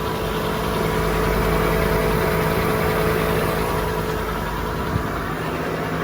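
A reconditioned Bock FP-90 spin dryer, fitted with a washdown motor drive, runs near the end of its cycle with a steady, loud mechanical drone and a constant low hum, with no talk.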